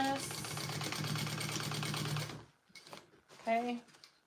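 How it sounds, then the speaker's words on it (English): A sewing machine stitching a tote bag runs in a fast, steady mechanical chatter for a couple of seconds close by, then stops as a person starts talking. "I need to do my extra stitching on this."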